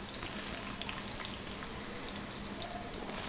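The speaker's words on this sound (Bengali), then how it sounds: "গরম তেলে এবার আলুগুলোকে ভেজে নেব।" Diced potatoes hit hot refined oil and fry with a dense, even crackling sizzle, close and constant throughout the short stretch with no voices.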